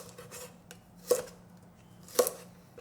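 A knife chops through cucumber into cubes on a cutting board: two crisp, separate cuts about a second apart, close and fairly quiet, with a light clatter before them.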